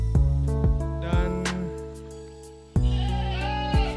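Goats bleating loudly and close by from a cow and goat pen in a village, several wavering calls in quick succession that overlap one another, with no talk.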